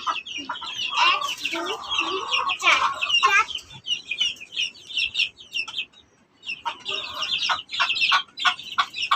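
Hens and chicks at a backyard chicken coop cluck and chirp in busy, overlapping bursts, close and fairly loud, with a short lull midway.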